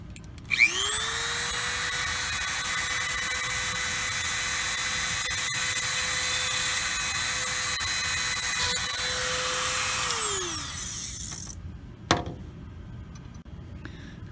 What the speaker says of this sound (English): drill a straight hole because it's supported on almost all sides